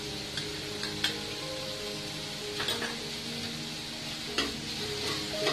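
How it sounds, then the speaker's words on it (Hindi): Sliced onions and green chilli fry gently in a pan, making a soft, continuous crackle. A few sharp spatula taps and scrapes come through at intervals, fairly quiet and close, with no speech. "हमें प्याज को हल्का ही ब्राउन करना है, ज्यादा ब्राउन नहीं करना है, हल्का ही फ्राई करना है"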